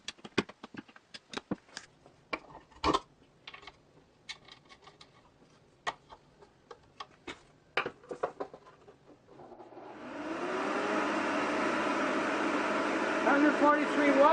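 An electric blower motor, rebuilt with its stator flipped so the impeller faces backwards, follows a stretch of scattered clicks and taps, then spins up into a steady, loud whirring hum with rising whine that continues to the end.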